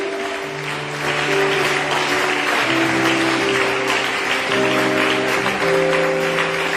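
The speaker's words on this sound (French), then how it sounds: "Est-ce qu'on peut acclamer pour les femmes?" A church congregation at a celebration service applauds and cheers for the women. The clapping is dense and steady over sustained organ-like tones, loud throughout.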